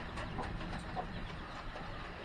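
Mixed-breed chickens with chicks cluck softly and continuously on a rainy day, close by over a steady wash of rain-like noise.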